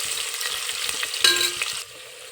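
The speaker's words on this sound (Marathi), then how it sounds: "आता टाकू उभा चिरलेला कांदा. तो आपण परतून घेऊया." Vertically sliced onion sautéed in oil with crushed garlic and bay leaf for spiced rice, giving a steady, close, hissing sizzle that flares louder for a moment midway, then settles to a softer crackle.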